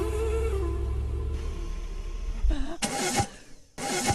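A brand-new car's engine cranks and tries to start, a low rumble giving way to two loud bursts of straining starter grinding separated by a brief pause.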